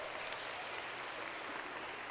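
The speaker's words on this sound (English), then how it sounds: "Give him a round of applause." Audience applause after a young cello player's performance at a livestreamed concert: a steady, even wash of many hands clapping, faint and distant, continuing throughout without a break.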